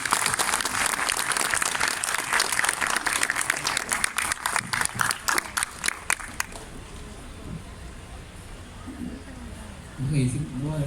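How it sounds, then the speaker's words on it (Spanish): An audience at a panel discussion applauds in a dense burst of clapping that thins out and stops after about six seconds. A voice then begins talking quietly over the room. "Aplausos para ellos, por favor."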